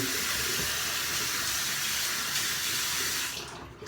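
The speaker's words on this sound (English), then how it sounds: "Now you want to get in cold water right away. And really splash your neck very well." Tap water runs steadily in a broad rushing hiss with splashing, then stops near the end.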